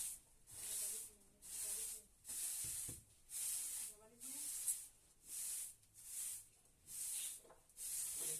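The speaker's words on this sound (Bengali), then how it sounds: "ঝাঁট দিয়ে দিচ্ছি" A broom sweeps a home floor in steady, regular strokes, each a soft brushing swish roughly once a second, fairly close with quiet gaps between strokes and no voices.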